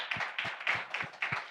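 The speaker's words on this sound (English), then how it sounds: "Round of applause for our speakers, please." Workshop attendees at a world assembly applaud their speakers: five or six faint, evenly spaced claps, sparse and soft rather than a full ovation.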